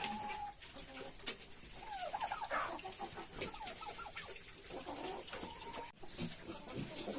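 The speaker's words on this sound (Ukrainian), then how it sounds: "О, ще курочка." A hen clucks in a backyard poultry setting, with repeated close clucks and chirpy calls from other fowl mixed in against a busy outdoor background.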